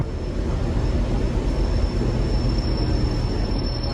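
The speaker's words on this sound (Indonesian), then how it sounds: "Saat ini kereta Pramex ini udah tiba nih di stasiun Wojo dan masuk di jalur 3" Pramex commuter train, a locomotive-free multiple unit, arriving at Wojo station onto track 3, heard as a steady loud low rumble with a constant high whine throughout, no voices.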